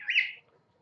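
A pet cockatiel or lovebird gives one sharp, loud call close by, lasting under half a second, then quiet.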